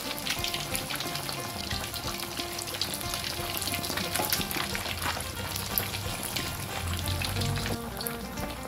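Tilapia frying in hot oil with ginger in a pan, a steady close sizzle and crackle throughout with occasional spatters, no talking.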